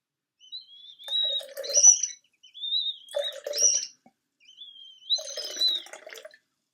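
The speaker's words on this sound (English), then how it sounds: "So when you pour, they actually make a really cool kind of tweeting sound." Warbling, bird-like tweets from a bird-shaped pitcher being poured rise and fall in three bursts with short gaps, bright and close, alongside faint watery trickling.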